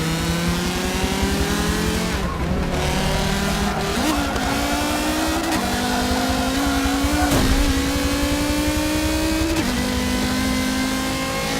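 Racing cars in Forza Motorsport 7 roar past an Audi, a continuous loud engine drone rising in pitch and dropping with each gear change, with a few sharp shifts along the way.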